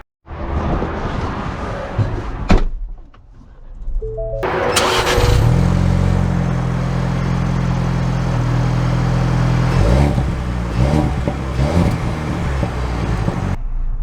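A 2023 Ford Bronco with a manual gearbox cranks and fires up, its engine settling into a loud, steady idle close by before revving and pulling away, with a brief clunk early on.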